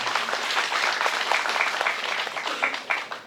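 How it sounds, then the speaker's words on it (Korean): Audience applause at a district public forum with the Gwangjin-gu mayor, steady dense clapping from a crowd in a hall, continuous and fairly loud for the whole stretch with no talk over it. "박수 부탁드립니다."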